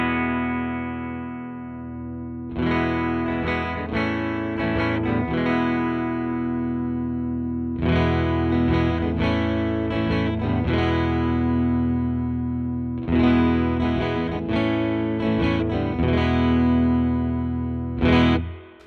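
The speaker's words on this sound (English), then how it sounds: "let's do some cowboy chords with the shawbucker and move over to that transducer." Electric guitar strums open cowboy chords on a Shawbucker pickup in three bursts with pauses between them, the chords ringing out with reverb and a slightly distorted, effected tone.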